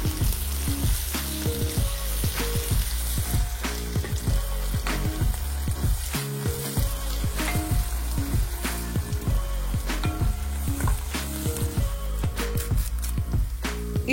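Sliced onions and two green chilies fry in oil in a pan for a biryani, giving a constant close sizzle with frequent rhythmic scrapes and clacks of a spatula stirring throughout.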